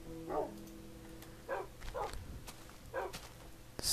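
Several short barks from a dog in Minecraft, spaced irregularly across a few seconds at moderate distance over a quiet low game hum.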